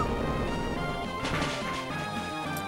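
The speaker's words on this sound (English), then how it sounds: "I'm gonna fucking whip you with an Iron Tail" Iron Tail attack from Pokémon Emerald striking its target, a loud crashing impact in game audio with chiptune music playing throughout.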